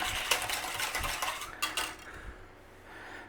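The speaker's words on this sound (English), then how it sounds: "So just give that a stir around." A utensil stirs a processed Parmesan cheese mixture in a metal pot, giving a close, busy run of scraping and clinking that fades to quieter stirring toward the end.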